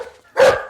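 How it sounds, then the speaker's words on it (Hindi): A single sharp dog bark bursts out close by from inside a car, a short loud yelp after a moment of quiet. "अबे कुत्ते क्यों भौंक रहा है?"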